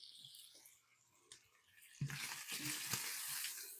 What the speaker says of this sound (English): We're going to give a quick toss to our bacon